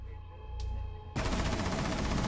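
Gunfire in a Rainbow Six Siege round comes after quiet game ambience and one faint crack, then breaks into a loud, sustained automatic burst that continues to the end.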